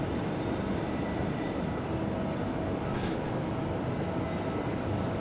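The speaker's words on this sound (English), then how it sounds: "So hopefully you're enjoying this little train ride with me, even though I keep speeding." Swiss narrow-gauge train on the Albula Line in Train Simulator 2017, a steady loud rumble of wheels on rails with a sustained high squeal and a brief swell midway, no talk.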